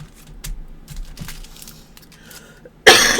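A woman coughs in a loud, harsh burst near the end, preceded by quiet rustling and faint room noise.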